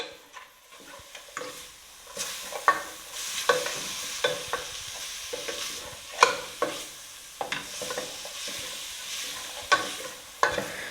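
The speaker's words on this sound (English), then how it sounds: "And now I'm going to add the tomatoes. And now you're going to mix." Ground beef for tacos fries in a pan as tomatoes are stirred in: repeated close scrapes and knocks of a spoon over a soft, steady sizzle, with no talking.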